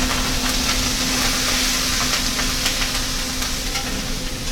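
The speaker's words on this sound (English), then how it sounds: "You need to fry the green chilies a little bit, maybe 1 or 2 minutes." Green chilies slit down the center frying for lemon pickle, a steady close sizzle and hiss of hot oil running throughout with occasional crackles and stirring, no voices.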